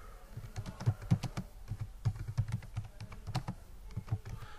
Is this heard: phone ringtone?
no